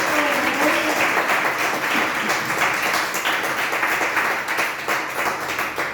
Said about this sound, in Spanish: Iglesia, debes aplaudir a Dios.